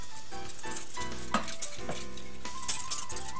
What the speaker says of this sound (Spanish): Volcamos siempre revolviendo